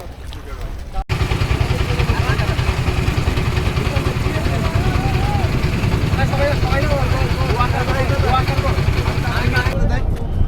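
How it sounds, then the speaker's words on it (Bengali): Motorboat engine on a ride to Sada Pathor in Bholaganj, Sylhet: a loud, steady mid-pitched throb runs throughout, with people talking faintly underneath. "আমরা এখন এই বোট করে যাব সাদা পাথর ভোলাগঞ্জ"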